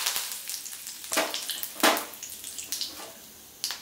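Mustard seeds and urad dal sizzle in hot sesame oil for garlic chutney: a close, steady hiss broken by sharp crackles and pops.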